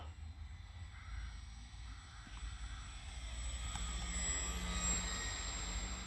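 A Bipe Pipe Pro model biplane flies overhead in a quiet, steady drone that grows slightly louder and nearer toward the end, heard alone outdoors.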